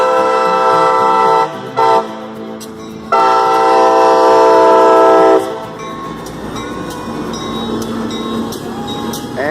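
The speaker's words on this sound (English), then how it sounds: "You couldn't hear anything that I was saying with that train whistle going." A train passes a railroad crossing by the Robert W. Willaford Railroad Museum in Plant City, Florida, sounding two loud, sustained horn blasts, then rumbling and clattering steadily by up close.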